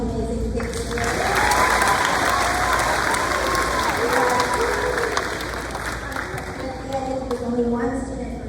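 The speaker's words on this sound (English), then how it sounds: "let's give a round of applause for all these amazing kids here" An audience at a middle school 7th grade awards ceremony claps for the students, a dense sustained wash of applause under a voice speaking.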